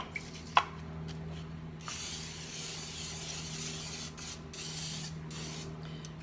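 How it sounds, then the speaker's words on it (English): Cooking spray hisses into a quiche bowl in a steady spray of about six seconds, with a small clink of the can near the start. "We're gonna spray it really nicely with cooking spray"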